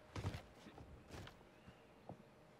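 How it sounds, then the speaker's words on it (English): Another player's footsteps in Warzone, a handful of faint, soft thuds spaced irregularly against quiet background. "I hear another set of footsteps"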